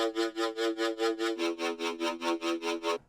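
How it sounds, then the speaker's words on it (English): A synthesized bass wobble pulses rhythmically, about a dozen even throbbing wubs in quick succession, loud and alone, cutting off abruptly. "I have the wub sound effect."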